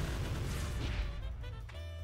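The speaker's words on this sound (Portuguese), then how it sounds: "Meu Deus, o som de fogos de artifício." Fireworks-like explosive booms and crackling bursts from a fighting video game match, loud and dense for about two seconds, then thinning out with a few lighter pops at the end.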